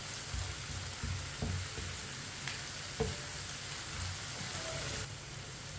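Crushed garlic frying in a pan for a white chana dish, a soft continuous sizzle with a few spatula knocks and stirring scrapes scattered throughout, close and fairly quiet, no voices.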